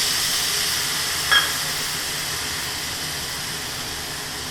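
Spice paste hitting hot oil and vegetables in a pan makes a continuous broad hiss, steady and fairly loud, with one brief brighter tick near the start.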